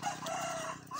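A native Asil rooster crows close by in a breeding pen, a single loud, hoarse call that fills the whole short moment.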